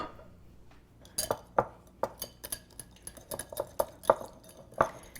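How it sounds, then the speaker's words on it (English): White balsamic vinegar dressing whisked in a bowl, with uneven metallic clinks and taps of the whisk against the bowl, close and fairly quiet, coming in irregular quick bursts. "I'm just going to whisk them together"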